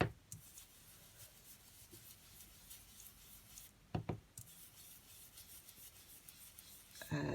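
Soft, steady rubbing of colour through a stencil onto a hardback journal cover, a close, quiet scraping texture with a couple of sharper taps partway through.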